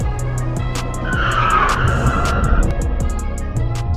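A car skids with loud tire squeal over engine noise, its brakes poorly maintained; the skid swells and fades across a few seconds, close and dominant with no talk.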